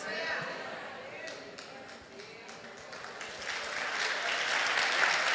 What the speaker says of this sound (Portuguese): Obrigado, mães, por aplaudirem.